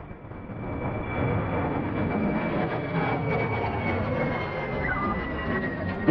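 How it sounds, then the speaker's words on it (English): An airplane flies low overhead near Key West airport, a loud steady engine roar holding throughout, heard from a catamaran close to the runway. "there's a plane coming"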